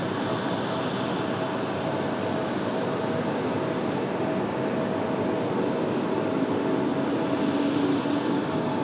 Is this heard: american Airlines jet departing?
yes